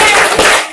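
A class of children clapping together in a classroom clap game, a dense burst of many hands striking at once, loud and close, trailing off at the end.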